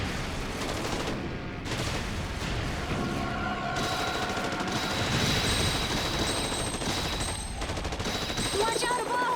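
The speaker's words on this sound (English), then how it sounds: "They're shooting at us!" Gunfire from enemies in the game Haunted Museum, dense sustained bursts of shots and fusillade, loud and continuous throughout with electronic tones and effects layered above.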